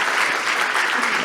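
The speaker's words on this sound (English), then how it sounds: "I think, give them a round of applause again." An audience gives panelists a round of applause at a poverty reduction event, dense steady clapping from many hands, loud and continuous for the whole moment.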